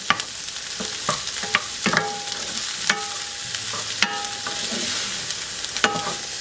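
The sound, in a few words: stirring mini sweet peppers and garlic frying in oil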